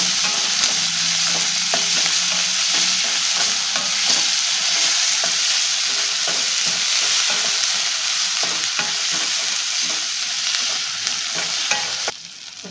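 Kashmiri chilli powder and turmeric masala frying in oil, a loud, dense and steady sizzle with soft scraping stir strokes throughout, dropping slightly at the very end.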